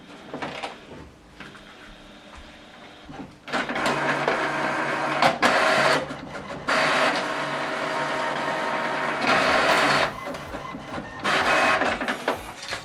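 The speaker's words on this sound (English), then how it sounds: "So now this document is going to print out double-sided." An HP printer printing a document double-sided. Mechanical whirring and feeding runs in separate passes with short pauses between them, and soft clicks and rattles lead into the longer, louder printing stretches.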